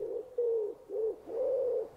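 A homing pigeon coos softly and close by, a short series of low, rounded calls with brief gaps between them against a quiet background.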